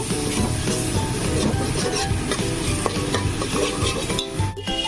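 Chana dal cooking with spices and melted tomato in a pan for vuna khichuri, a dense continuous sizzle with vigorous stirring scrapes throughout, close and loud.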